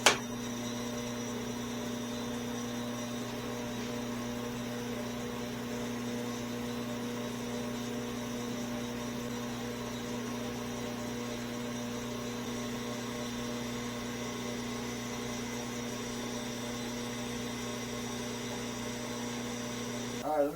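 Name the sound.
Atlas lathe running on a dry run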